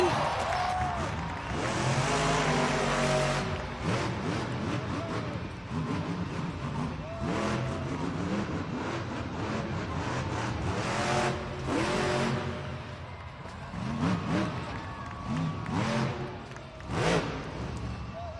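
Monster truck engine revving loudly in an indoor arena during a Monster Jam freestyle run, with repeated surging roars over a constant crowd din and a commentator speaking over it.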